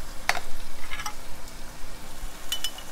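Tomato paste hits a hot stew pot for Caribbean butter fish, giving a steady soft sizzle with a few sharper scraping clicks of a utensil against the pot.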